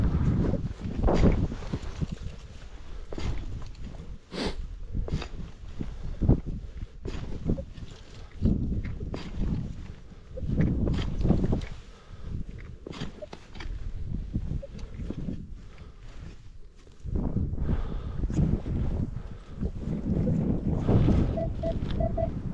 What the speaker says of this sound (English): Oh, wind sort of blowing.